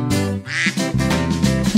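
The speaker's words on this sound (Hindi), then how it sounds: "मामा बतख बोली क्वाक क्वाक क्वाक क्वाक" A voice sings a string of duck-like quacks over a bouncy musical backing, loud and close, several quacks in rhythm.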